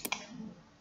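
Two quick, soft clicks in an app while installing iPusnas via Google Play, close and isolated, with no talk.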